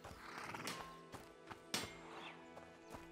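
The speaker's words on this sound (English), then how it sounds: "Hi, horse." A horse in A Plague Tale: Innocence, faint hoof clops and knocks at an uneven pace with a short whinny, quiet and nearby.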